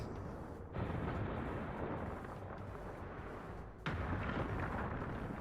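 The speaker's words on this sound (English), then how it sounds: "The walls fall." Walls collapsing in a Final Fantasy XIV dungeon, heavy rumbling explosions in two big booming surges, loud and continuous with no talk.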